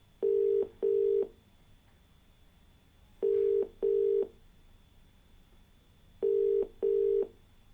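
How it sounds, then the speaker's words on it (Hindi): A telephone call is dialed out to a caller: three pairs of short, clean ringback tones separated by pauses, loud and alone with no talking. "फोन लगाते हैं अपने पहले कॉलर को"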